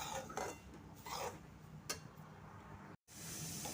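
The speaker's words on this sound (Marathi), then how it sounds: "ह्या रव्यामध्ये मी असं 2-3 वेळा तूप टाकून भाजून घेणार आहे" Semolina roasting with ghee in a pan for rava laddu, stirred steadily with a spoon: soft scraping and light metallic clinks against the pan, quiet and close.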